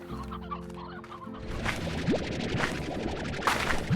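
Poultry clucking and gobbling inside the Slime Rancher video game, a chicken coop busy with fowl calls: a steady chorus of clucks with a few rising cries, moderately loud and continuous, with no talking.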